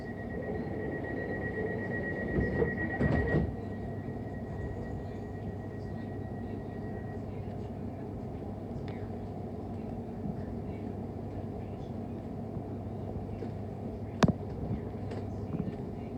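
A London Overground train runs between Gospel Oak and Barking, a steady low rumble from on board with a faint tone early on and a brief sharp click later.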